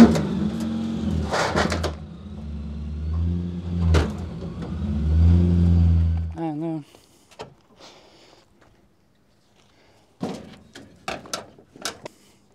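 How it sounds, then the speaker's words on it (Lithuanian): A car engine at a new driving ground in Druskininkai, Lithuania, revs loudly and steadily for about six seconds, then cuts off, leaving near-silence broken by a few short knocks and clatters. "vienam reikia užsivaryti automobilį"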